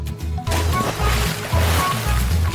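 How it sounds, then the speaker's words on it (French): Milk splashing and bubbling as someone blows through an Oreo cookie used as a straw, rapid repeated gurgling bursts, close and fairly loud. "Tout le lait a éclaboussé."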